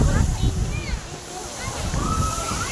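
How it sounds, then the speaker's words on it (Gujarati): Water from an overhead bucket at a water park pours and splashes down in a heavy, continuous slosh while people talk and shout nearby. "આ ડોલ ઉપરથી આવે છે"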